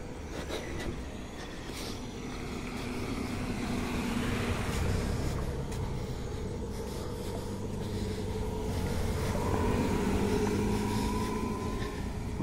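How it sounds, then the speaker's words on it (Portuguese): Continuous traffic of many cars passing near a bus station, a steady low road rumble with rising and falling swells of passing vehicles over about twelve seconds, moderately loud, with no talk. "Muitos carros passando aqui."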